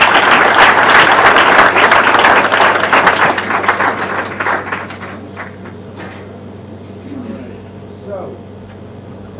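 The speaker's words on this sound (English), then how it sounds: "please clap a little more for Mr. Narwick" Audience applause in a packed, standing-room-only town hall meeting on blockchain, loud and dense clapping at first that thins out and fades after about five seconds, leaving a low room hum and a few scattered sounds.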